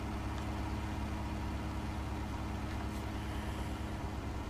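A Claas Dominator 98 VX combine engine runs in Farming Simulator 19, a steady, droning idle-like rumble with a constant low hum, alone and unchanging throughout.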